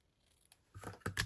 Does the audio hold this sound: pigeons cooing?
no